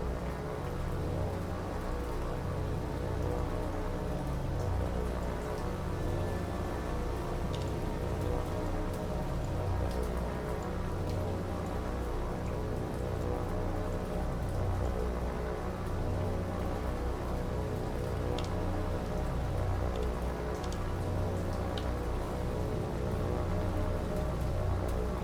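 Heavy rain falls steadily in the naval combat video game War on the Sea, a dense, continuous hiss that stays loud and even throughout, with no talk.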